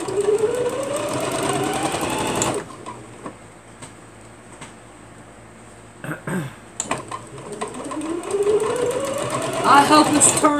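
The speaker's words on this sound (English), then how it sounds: "I'm going to fold it under and I'm going to sew it down" Sewing machine stitching down the folded-under edge of a round bag: fast, even mechanical whirring that speeds up and slows in bursts at the start and end, with a quieter stretch of handling clicks between.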